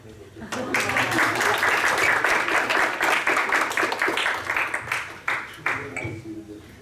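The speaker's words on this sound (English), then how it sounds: "We forgot to clap." A conference audience claps after a talk introduction, with steady, dense applause that fills the room and then thins out toward the end, with voices mixed underneath.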